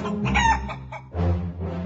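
Chickaletta the cartoon chicken in a Paw Patrol video game gives two close, loud bursts of clucking and crowing, one long squawk then a shorter cluck after a brief gap.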